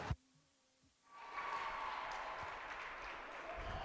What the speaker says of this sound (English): Ladies and gentlemen, a round of applause for childhood cancer survivor and Snowdrop Foundation scholarship